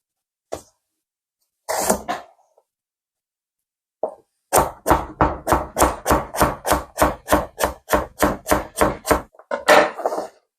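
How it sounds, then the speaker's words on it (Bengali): A knife chops green chillies on a cutting board for a watermelon rind bhaji: a few scattered cuts, then a rapid, steady run of about fifteen crisp, close, evenly spaced chops, loud and without talk. "লঙ্কা সবগুলা কাটা শেষ"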